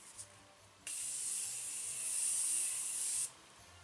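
A single steady hiss of makeup setting spray misted onto a face, close and continuous for a couple of seconds, then cutting off sharply, with no talking.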